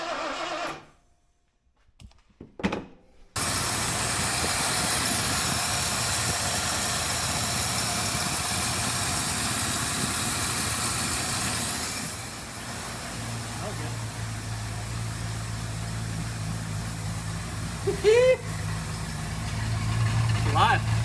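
An old engine starts after repeated tries and keeps running, a loud steady rumble with a low idle drone that holds on for most of the stretch, a few thumps and knocks before it catches, with people talking nearby.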